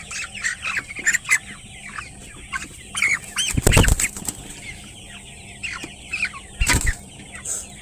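The largest rooster on a farm flaps its wings in loud bursts as it is picked up, with clucks and squawks scattered throughout amid faint background farm noise.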